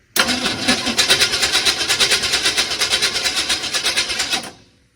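A 1980 Chevy K30 Squarebody truck engine cranks over on the starter in a steady, rapid rhythmic churn for about four seconds without catching, loud and close, then cuts off.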